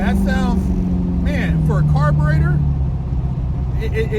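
A carbureted Porsche 928 engine runs steadily and close by, a loud, low, continuous rumble that holds throughout while someone talks over it.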